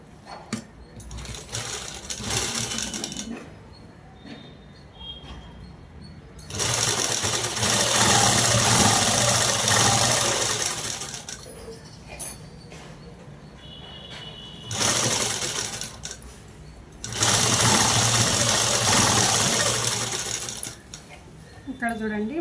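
A sewing machine runs a straight seam on a long frock made from a saree, in loud close bursts of steady mechanical whirring separated by quieter pauses with faint handling.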